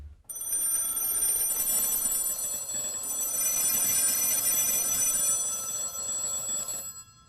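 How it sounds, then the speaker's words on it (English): An old telephone bell rings in a wartime RAF dispersal hut, a continuous shrill metallic ring lasting several seconds, loud and steady before cutting off. "And when the telephone rang,"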